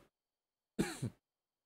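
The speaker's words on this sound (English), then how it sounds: "if you wonder why I've been coughing occasionally, it is because of dry air" A single throat-clearing cough from a man whose throat is irritated by dry air, a brief close burst in two quick pulses after silence.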